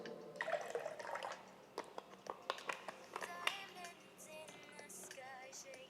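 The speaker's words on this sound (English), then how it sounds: "take your shaker, fill it with ice. Add the orange juice." Orange juice pours into a cocktail shaker full of ice, making a string of close, crisp clicks and trickles that give way to a softer liquid patter.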